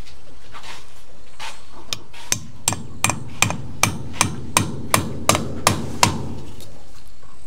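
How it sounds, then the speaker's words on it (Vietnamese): A hammer drives a small nail into a wall to hang a broom: about a dozen sharp, evenly spaced knocks, loud and close, with a few lighter taps before them. "Đóng một tí thôi để treo cái chổi đi"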